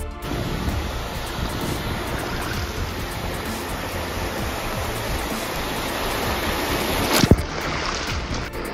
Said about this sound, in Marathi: या समुद्राच्या लाटाचा जास्त आवाज ऐकायला एवढ्या दूर आलो